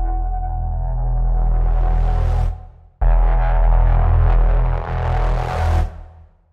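A loud, buzzing distorted synth bass tone from the Vital synthesizer sustained in two long phrases, its brightness sweeping upward before each cuts off.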